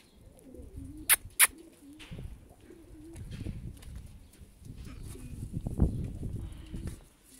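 Pigeons coo repeatedly at a rooftop loft, soft low throaty calls close by, joined by two sharp clicks early on and a busier stretch of overlapping coos later.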